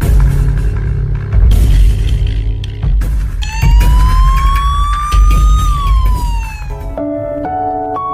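A loud wailing siren rises and falls close by, layered over traffic rumble and horn-like blasts, with the tone sliding up then dropping away.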